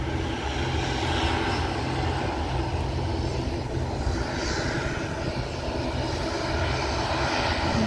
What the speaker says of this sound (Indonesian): Wings Air sudah mengambil ancang-ancang untuk siap take off menyusul Sriwijaya Air sudah siap-siap juga